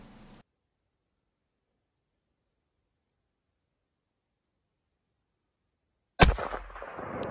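A single loud rifle shot at a bull elk cracks after several seconds of silence, booming close and decaying into rustling noise.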